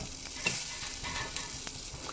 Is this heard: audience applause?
no